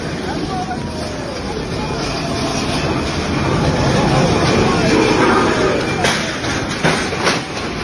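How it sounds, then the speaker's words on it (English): A train rumbles steadily with a broad low roar and rattling, a few sharper clanks and hisses near the end as it slows and stops after hitting a vehicle. "The train stopped."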